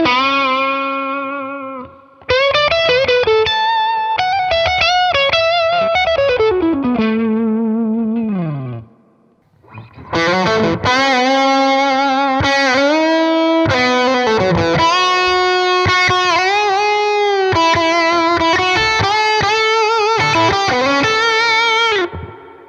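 Electric guitar played through a Milkman amp and a Strymon Riverside overdrive pedal, loud sustained overdriven chords and bending melodic lines with chorus-like shimmer, one brief pause midway, no talking.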